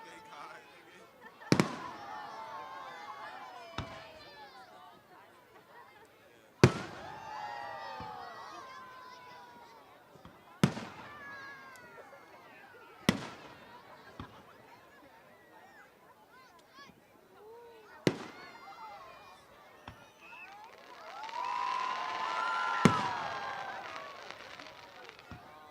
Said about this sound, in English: I'm so glad we have some clear skies tonight to be able to see this beautiful display of fireworks.